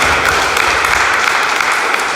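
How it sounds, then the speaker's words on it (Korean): A church congregation in Paris applauds together in thanks at a year-end Sunday service, a steady, dense wash of many hands clapping that fills the room without pause. "우리 감사의 박수 한번 드렸으면 좋겠습니다"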